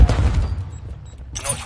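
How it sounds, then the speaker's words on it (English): A stun grenade bursts in a tactical shooter video game, a loud booming blast at the start that fades into a quieter tail, followed by a bright hissing burst near the end. "Throwing the stun grenade."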